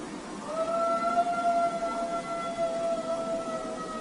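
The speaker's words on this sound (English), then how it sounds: "so I'm wondering if this was just a really old dog trying to howl." A dog howling at night in a street, a long wavering tonal howl that holds for several seconds over a noisy outdoor background, moderately distant, with no talk.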